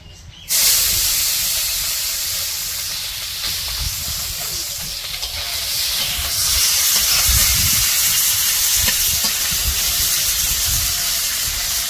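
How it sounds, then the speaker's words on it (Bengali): River gulsha fish sizzle in hot oil in a village kitchen wok, a loud continuous hissing spatter that starts abruptly as the fish go in and roils on steadily with low bubbling crackle, no talk. "এখন কড়াই তেল গরম হইলে মাছ দিয়ে দিব"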